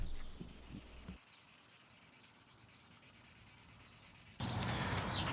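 Hand sanding with 1500-grit paper on a Zenith Cruzer airplane door window gives a close, steady scratchy rubbing that runs throughout, louder strokes at the start and end and a softer, continuous rasp in between.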